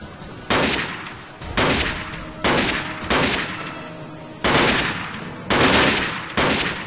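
Gun blasts from a weapon in the video game Prism Guard Shield fire in a steady, evenly spaced series of sharp, loud shots, each with a short decaying tail, close up and alone.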